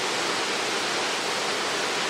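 Coal Creek Falls in New Zealand pours in a steady, dense roar of falling water, close and loud, unchanging and with no voices.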